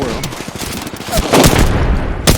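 Rapid gunfire in the video game Apex Legends, loud bursts of sharp cracking shots in quick succession with a few louder single reports near the end, close and dense, no speech over it.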